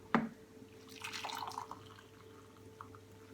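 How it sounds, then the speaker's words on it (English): Hot green tea is poured into a cup, a soft, brief trickle and splash of liquid following a small initial clink, faint and close. "Now we're just going to pour it into the cup."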